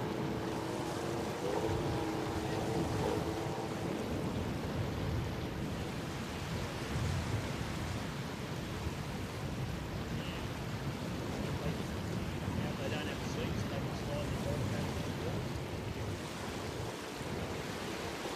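Several 25 horsepower inboard racing boats roar past on a lake during a championship race, a continuous loud engine drone mixed with wind and water wash, with a faint announcer-like voice underneath.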